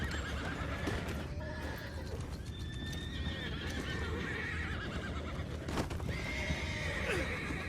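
In Red Dead Redemption 2, horses whinny and neigh repeatedly over a continuous clatter of hooves and rumbling movement, the calls loud and near against a busy, rough background.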